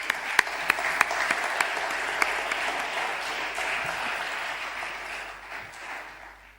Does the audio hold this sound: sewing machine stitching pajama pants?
no